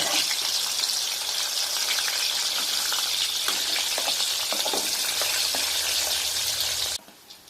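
Oil sizzles and crackles steadily as elephant foot yam slices fry in a pan, a continuous loud hiss that cuts off abruptly near the end.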